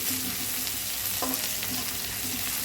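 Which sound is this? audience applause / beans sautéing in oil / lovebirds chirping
beans sautéing in oil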